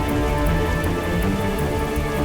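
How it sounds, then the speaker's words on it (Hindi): Heavy rain pours down steadily and densely, a loud, continuous hiss of drops drumming on surfaces with no voices and no break in the downpour. "अरे यार, बारिश तो और बढ़ी जा रही है।"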